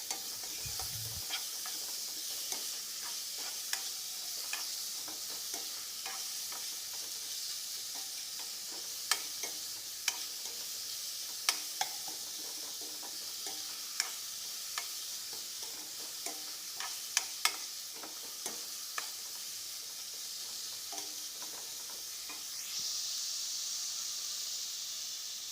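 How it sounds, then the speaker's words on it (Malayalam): Onion and tomato fry in a pan for soyabean masala, a soft continuous sizzle broken by scattered light clicks and scrapes from stirring, with no voices. "നല്ലോണം ഒന്ന് ഇളക്കുക, എന്നിട്ട് നല്ലോണം ഒന്ന് വെന്ത് വരട്ടെ"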